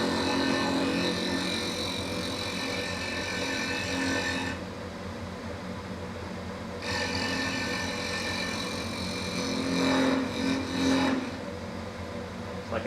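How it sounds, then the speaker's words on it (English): A powered Armstrong bench grinder hums and whines steadily as a dresser is run across its wheel, with the grinding texture shifting and swelling at intervals, close by and without speech. "I'm going to run the dresser across the wheel."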